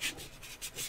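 Sandpaper rubbed by hand over painted wood to strip a thick paint layer, quick rhythmic back-and-forth scrapes heard up close, about four strokes in under a second.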